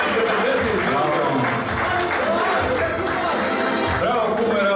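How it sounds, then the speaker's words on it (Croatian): Applause for a man's 25th birthday at a small rakija-distilling gathering in Krčevine, with steady, dense clapping running throughout and voices talking over it. "Pozdravimo ga jednim aplauzom"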